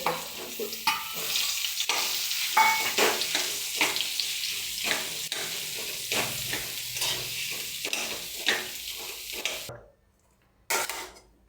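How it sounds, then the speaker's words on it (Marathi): Boiled sweet potato being mashed and stirred in ghee in a kadhai, with repeated scraping and soft squelching strokes and a light sizzle, close and steady before a brief pause and one final scrape. "तर तूप टाकलेल्या कढईमध्ये आपण आणि उकडलेले रताळे आपण चांगले मऊ बारीक करून घेऊया"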